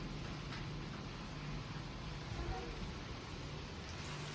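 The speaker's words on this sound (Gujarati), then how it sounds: "વરસાદ ચાલુ થઈ ગયો." Steady rain falls across open grounds at a resort in Sasan Gir, a dense even hiss with no breaks, close and constant throughout.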